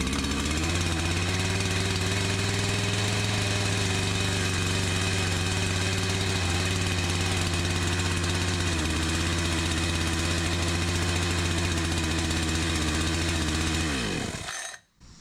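A Husqvarna 365 chainsaw with freshly replaced seals runs steadily at a loud, close idle, a throbbing two-stroke drone that holds for most of the time before the engine cuts out abruptly near the end.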